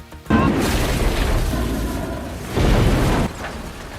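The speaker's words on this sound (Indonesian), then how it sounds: "ledakan pun terjadi" A loud, deep explosion near a steel truck in a film bursts out and rumbles on, then a second heavy blast surges before the roar fades into a lingering low rumble.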